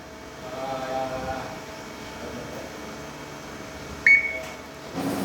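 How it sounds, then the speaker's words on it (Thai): Tool eye setter on a Mazak SQT Fusion 640T CNC lathe giving a single short, clear beep over steady machine-shop hum. "เมื่อปลายมีดสัมผัสทูนไอแล้วนะครับทูนไอก็จะส่งเสียงดังปี๊บ"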